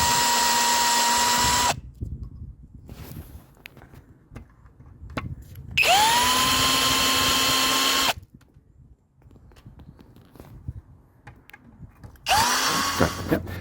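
A power drill whines in three separate bursts, its pitch settling as it bites into the metal of a pop rivet head on an MG convertible hood, with quiet handling clatter between runs.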